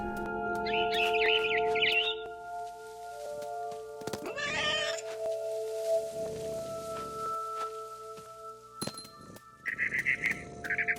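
Cat meowing in the video game What Remains of Edith Finch, several separate close meows spread across the clip among chirping bird sounds and soft game tones.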